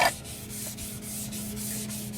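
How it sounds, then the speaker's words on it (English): Sandpaper rubs back and forth across a surface in steady, even strokes, close and fairly loud, with a regular scratchy rhythm. "Now, you want the sandpaper to go the same way"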